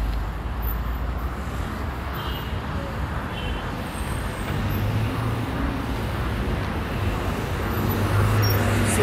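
Road traffic on Haile Selassie Avenue in Nairobi, slowed by construction: a broad, steady roar of passing cars, buses and trucks, with engine rumble building toward the end.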